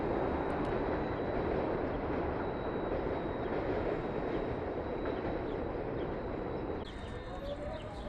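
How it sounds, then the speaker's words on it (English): A subway train rumbles past an amusement park, a steady loud roar of wheels on rails with clattering and a faint high squeal, easing slightly toward the end. "You can hear the subway train and see the subway train riding on by."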